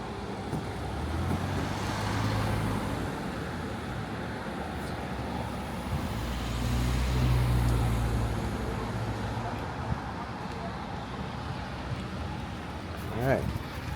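A self-driving car moves through busy traffic, with a steady low road and engine rumble swelling and easing as vehicles pass, and a short sharp sound near the end.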